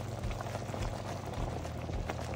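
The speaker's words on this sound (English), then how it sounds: "It's, as you can see, it's really simmering away now, higher than it ever was" Hot stock simmers in a butter and flour roux for chicken and biscuits, bubbling and popping steadily up close, a soft continuous boil with no talking.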